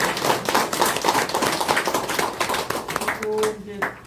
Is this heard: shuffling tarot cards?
no